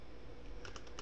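A few quick keystrokes on a computer keyboard, ending with a press of the return key, sound as soft clicks over a low background hum, close and faint.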